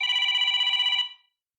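Ringtone on a Samsung Galaxy A17 phone, a steady bright electronic ring that sounds alone and loud for about a second, then stops abruptly and fades out.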